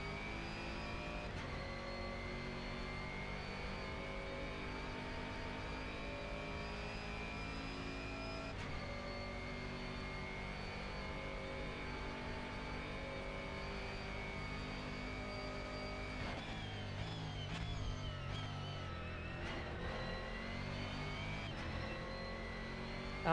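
Ferrari and Bentley GT3 race cars in a sim racing game at Road Atlanta, engines droning steadily and harmonically throughout, with shifting revs and a rougher burst of gear changes near the end.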